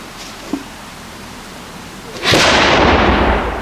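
A black-powder artillery cannon fires during a garrison demonstration at Fort Loudoun: a single loud, close boom erupts after a quiet pause and leaves a long, rumbling roar hanging in the air.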